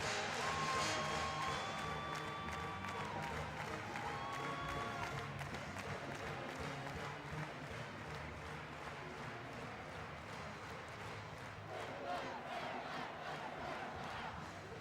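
A basketball arena crowd at Wichita State's home game against Detroit roars and applauds without a break, a dense, distant wash of cheering with a few brief whistles early on.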